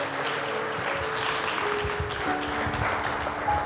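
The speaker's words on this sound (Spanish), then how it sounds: "Dale un fuerte aplauso al Señor." A church congregation claps during a Spanish-language service, a brief burst of moderate clapping over sustained musical tones in the background.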